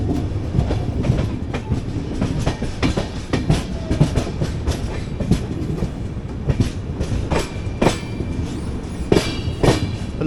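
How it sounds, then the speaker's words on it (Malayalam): A train passes on the opposite line near Koduru station, probably a freight train hauled by a WAG-9 locomotive, heard as a steady loud rumble with continuous clickety-clack of wheels over rail joints and sharp metallic clanks throughout. "അപ്പോൾ ഓപ്പോസിറ്റ് ലൈനിൽ ഉടനെ ഏതോ ട്രെയിൻ വരുന്നുണ്ട് ഇവിടെ."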